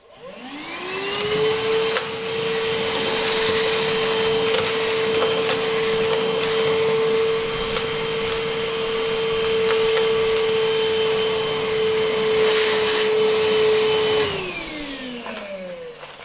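A SEA 20 cordless vacuum cleaner, running on a quarter charge, spins up and then runs as a loud, steady whine for about twelve seconds before winding down. No one speaks.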